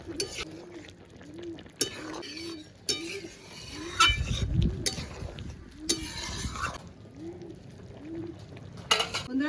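A mixed vegetable curry is stirred in a pan with a spoon, giving repeated metallic clinks and scrapes at an uneven rhythm over a soft wet simmer, with a few louder knocks against the pan.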